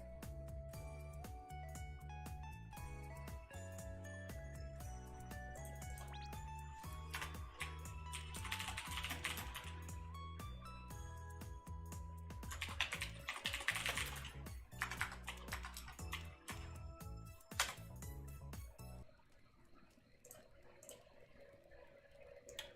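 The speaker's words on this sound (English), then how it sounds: "I always love doing keyboard smashes, so no one can just pause the stream and enter it like people have done" Rapid clicking of computer keyboard keys during a keyboard smash, faint and close, running under steady background music with no talk.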